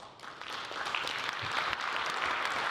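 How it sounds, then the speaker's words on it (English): An audience at a health panel breaks into applause that swells from a few claps into a steady round lasting a few seconds, with no talk. "Let's give them a round of applause."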